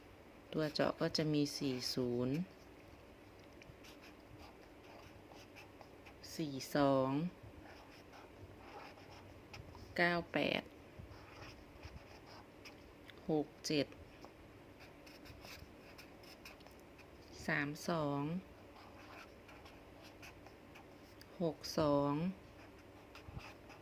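A pen scratches across paper in short intermittent strokes, fairly faint and close, while a voice speaks in bursts between and over the writing.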